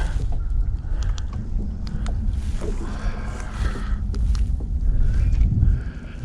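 Wind gusting over a small fishing boat out on the water while crappie fishing, a steady broad rush with low rumbling buffeting, loudest near the end, with faint knocks and no talking.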